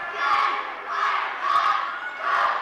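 A full-house basketball crowd at a district championship game cheers and roars in rolling waves, loud and sustained, with the noise swelling and dipping every second or so.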